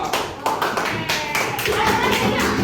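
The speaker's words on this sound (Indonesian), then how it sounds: "Tepuk tangan dong." Elementary school children clap their hands in a classroom, a loose burst of uneven claps and taps with scattered young voices over it, fairly close and lively.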